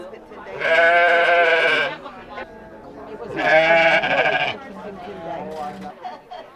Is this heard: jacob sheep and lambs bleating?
yes